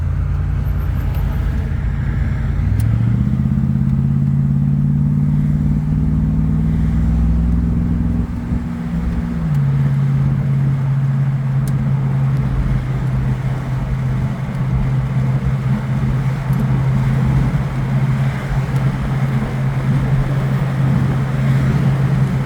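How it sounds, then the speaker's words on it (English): A 1973 Ford Mustang convertible cruising on the I-95 highway produces a steady, loud engine drone mixed with road and wind roar, its pitch shifting briefly as it changes speed. "Classic Mustang, sky around you, glossy red hood, rolling down I-95."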